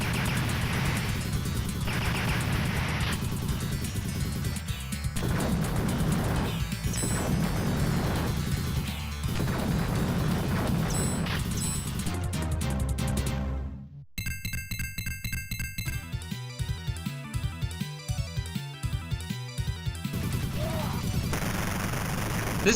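Gunfire in the rail shooter Mechanized Attack, shots smashing targets apart: rapid, sharp bursts and crashing impacts repeat with game music, a brief drop-out midway, then rhythmic firing resumes.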